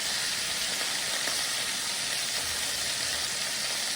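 Chicken thighs pan searing in a hot skillet, a steady loud sizzle and hiss with no breaks, close up and alone without talk.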